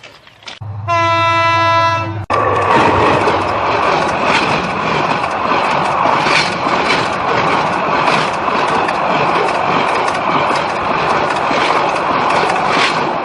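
A train horn blasts briefly, then a loud, close train rumbles past in a continuous roar of wheels and carriages.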